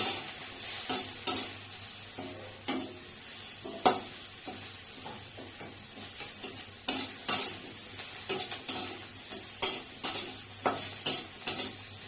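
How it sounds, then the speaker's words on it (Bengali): Sliced onions browning in oil in a pan with white cumin, bay leaf and a dried red chilli, for a coiled curry: a soft sizzle under a steady run of sharp spatula scrapes and taps against the pan. "পেঁয়াজটা প্রায় ভাজা ভাজা হয়ে গেছে"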